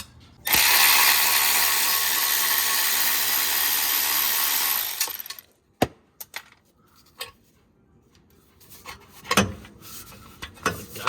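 A ratchet working on bolts of a Saab 9-3 charge pipe near the turbo: a long loud steady ratcheting burr for several seconds, then scattered clicks, knocks and metallic taps, close and with no talk.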